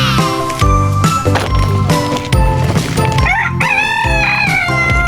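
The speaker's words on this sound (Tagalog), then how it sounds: "pati yung manok ko sang-ayon na rin eh" Rooster crowing loudly and close in a backyard garden, a long drawn-out call standing out over other busy background sounds, with no talk.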